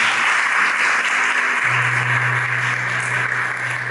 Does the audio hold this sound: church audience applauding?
yes